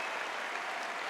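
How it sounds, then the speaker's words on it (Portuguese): A church conference crowd in Brazil claps together in a brief, dense burst of applause, a uniform wash of many hands at moderate level. "Vamos dar uma salva de palmas para toda essa galera."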